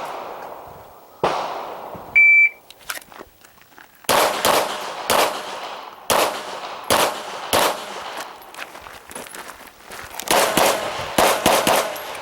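A pistol shooter at an IDPA match fires a string of loud, close shots at an outdoor club range, spaced in bursts with a brief pause for a reload, and faint electronic beeps come near the start.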